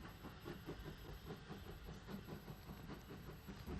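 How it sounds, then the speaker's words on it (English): Steam locomotive number 31551 pulls a train away from Goudhurst station on the 11.5-mile Hawkhurst branch in South East England, a steady chuffing rumble with rhythmic beats, faint and constant, with no voices. "A train for Hawkhurst leaves Goudhurst,"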